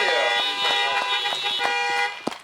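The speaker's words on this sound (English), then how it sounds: "let's have one more round of horn honking for our Congressman, Axne." Several car horns honk at once at an outdoor political fundraiser rally, sustained overlapping tones with repeated short toots, loud and close, with a sharp bang near the end.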